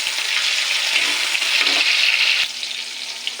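Garlic and tomato sizzle loudly in a hot pan, a close, steady hiss of frying that drops to a softer, quieter sizzle partway through and carries on alone.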